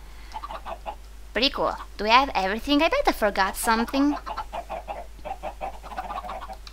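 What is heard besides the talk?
chickens clucking in a video game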